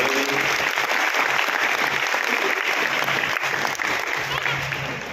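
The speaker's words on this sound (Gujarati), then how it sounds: "ધ્રુવીભાઈને આપણે ફરીથી તાળીઓથી" Steady, loud applause from an assembly audience at a devotional mandal gathering, sustained throughout and tapering slightly at the end, with faint voices mixed in beneath.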